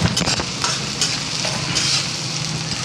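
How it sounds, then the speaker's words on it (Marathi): Chopped onion sautéing in a pan makes a loud, dense sizzle with rapid spatula scrapes and taps throughout the short stretch; no voices. "एक मोठा कांदा चिरून घेतला आहे, तो कांदा घालते. कांदा आपल्याला छान परतून घ्यायचा गुलाबी रंगावर."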